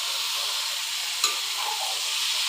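Eggplant and potato pieces sizzle steadily in hot fish oil, a close, even frying hiss with a single light clink of a utensil partway through, and no voices.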